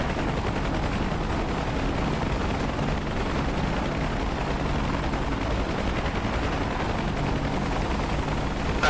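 An AH-64 Apache attack helicopter armed with Hellfire missiles in the combat flight simulator DCS World, its dense rotor and turbine roar holding steady and loud throughout, with no talking.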